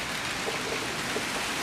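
Steady rain from an ex-cyclone falls outdoors, a continuous even hiss of drops with no let-up and no voices.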